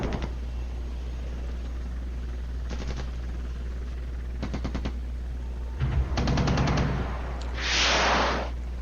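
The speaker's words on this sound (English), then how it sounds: "There goes my off-map artillery firing in without my permission." Off-map artillery fires in a war video game with several short bursts of rapid, close reports, followed by a heavier rumble and a loud, broad blast near the end.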